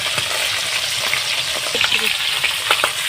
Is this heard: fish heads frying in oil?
yes